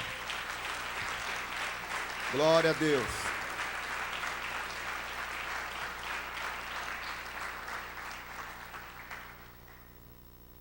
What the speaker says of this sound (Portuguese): Aplauda ao Senhor por essa palavra.